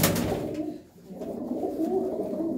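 Pigeons coo in a low, throaty, continuous murmur, close and steady with a brief dip partway through, no talking.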